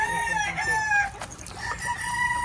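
Roosters crowing repeatedly among clucking chickens on a farm with bullstags and pullets, layered harmonic calls overlapping continuously and fairly close.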